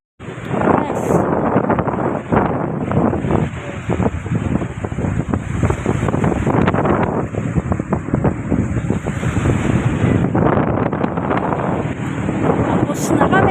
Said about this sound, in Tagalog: Taas ang hangin.